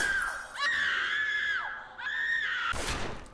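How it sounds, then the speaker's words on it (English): Screaming from the prison-management video game Prison Architect: two loud, close, drawn-out wailing screams with falling pitch, followed by a sharp thud, with no talk over them. "They didn't have to do the screaming and shit."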